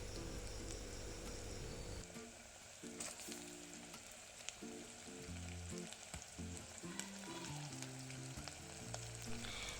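Mutton sizzles with browned onions in a pan, a dense, steady crackling fry heard close with occasional stirring clicks, while soft background music plays beneath.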